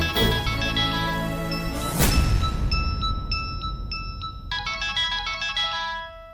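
A mobile phone rings with an incoming call from an unknown number, a loud electronic melody of repeated bright tones that keeps going, with a whooshing hit partway through as in a TV drama score.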